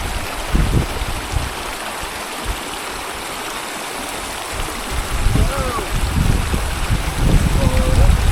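A mountain river rushes steadily in a broad, close wash of flowing water, with a few brief sounds of movement and voices near the end.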